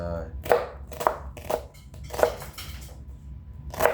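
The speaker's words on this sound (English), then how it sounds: "chop these up" Knife chopping onions on a board while making a cucumber tomato salad, about half a dozen sharp, close chops spaced irregularly over a low background rumble.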